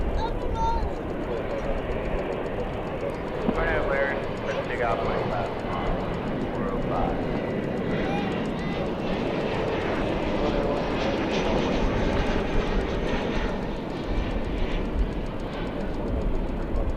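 A Qantas Boeing 787 Dreamliner airliner at DFW Airport produces a continuous broad jet rumble, steady and moderately distant, with voices talking over it throughout.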